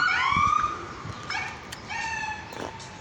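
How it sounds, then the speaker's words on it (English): Wailing sirens rise and fall repeatedly at moderate distance, their pitch sweeping up and down, with a dog barking a few times beneath them. "I had to wait for all the sirens to go by"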